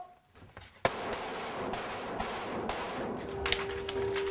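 Gunfire from a close quarters firearms training drill: one sharp shot rings out, then a steady, noisy crackle of further shots and echoes follows, loud and close, with a long tone sounding near the end.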